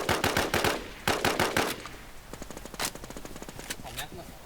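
Rapid bursts of automatic gunfire from a video game, loud clusters of shots followed by quieter, more scattered single rounds and short volleys.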